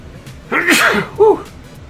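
A woman sneezes once, a loud burst followed by a shorter second catch, close by in a quiet room during a relaxed livestream.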